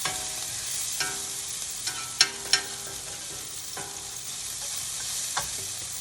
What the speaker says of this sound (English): saute those off just a little bit until they turn a little bit translucent